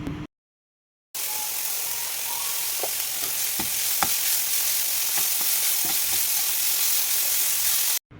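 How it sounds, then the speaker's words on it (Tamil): Finely cut vegetables with capsicum and grated carrot are stir-fried in a pan, giving a loud, continuous sizzle with scattered scraping taps of a spatula after a brief moment of silence. "இதை ஸ்டர் ஃப்ரை பண்ணால் போதும்"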